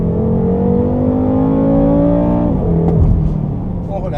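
A 560 hp BMW M6 Gran Coupé accelerates hard on a race circuit, its loud engine note climbing steadily before a gear change drops the pitch, then building again, with a voice briefly audible near the end.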